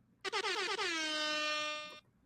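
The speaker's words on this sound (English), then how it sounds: "Air horns." A loud, sustained air horn sound effect blares alone, opening with a few stuttering blasts before holding one long steady tone that cuts off sharply.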